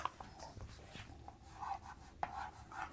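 Marker or chalk writing on a classroom board during a child development lesson, soft scratchy strokes in short bursts with brief pauses, fairly faint and alone.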